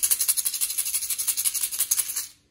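An egg shaker holding paper clips, shaken rapidly and evenly, giving a bright, thin metallic jingle of steady pulses up close with nothing else heard, fading out at the end.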